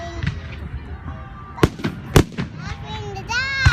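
Fourth of July fireworks pop and crackle in sharp bursts, two loud blasts standing out near the middle, while children chatter and a whistling rocket rises at the end.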